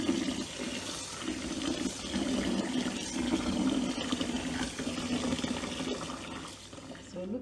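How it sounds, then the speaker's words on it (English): Water pours steadily into a bowl of corn for making Nigerian akamu (corn paste) for several seconds, a continuous splashing gush with a full, bubbly tone. "so I'm going to pour some water"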